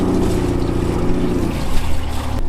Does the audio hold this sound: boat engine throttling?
yes